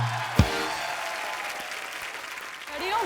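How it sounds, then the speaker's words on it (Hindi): Studio audience on a television comedy talk show breaks into applause after a celebrity guest is introduced, a dense steady clapping that holds through the clip, with a sharp bang near the start and a brief voice rising at the end. "प्लीज आप सबकी जोरदार तालियों के बीच"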